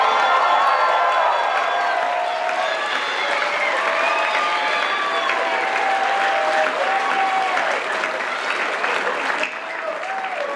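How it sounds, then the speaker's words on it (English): Graduation ceremony crowd applauding and cheering, loud continuous clapping mixed with whoops and shouted voices that carries on for about ten seconds and eases slightly at the close. "Let's give them one more round of applause."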